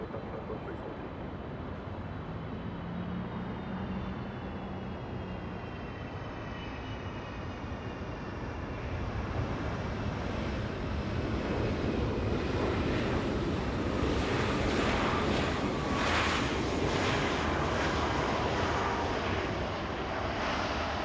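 A jet airliner takes off from runway 24 left at Los Angeles International Airport, its broad engine roar heard from a distance and swelling steadily louder as it climbs away.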